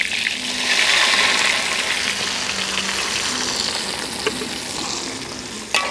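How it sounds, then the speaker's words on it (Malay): Lemongrass and blended spice paste sizzle loudly in hot oil during outdoor cooking of Javanese ayam masak ungkep, a steady close frying hiss with occasional stirring clatter. "Kita tumiskan dulu serai ini."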